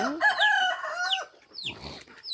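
A young chick cheeps loudly and repeatedly, shrill rising and falling peeps close by, with no talking.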